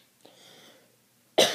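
A single sharp, loud cough from a person with a cold bursts out after a moment of faint breathy noise and quiet.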